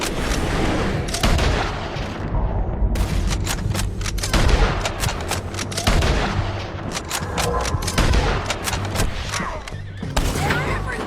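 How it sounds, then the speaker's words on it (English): Sustained gunfire rattles through a video game shootout, with dense bursts and sharp repeated shots overlapping one another and heavy booming impacts beneath, loud and continuous throughout with brief lulls between volleys. "Keep shooting until they're not"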